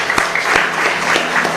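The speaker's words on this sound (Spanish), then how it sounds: "Un fuerte aplauso para nuestro barrio Caguazú." A congregation at a chapel Mass claps briefly, a short burst of fairly loud, scattered hand claps with a few distinct sharp slaps.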